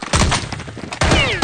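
Rapid bursts of gunfire from the video game Counter-Strike 1.6, loud and close, with a dense volley, a short lull, then another sharp burst and a ricochet-like whine.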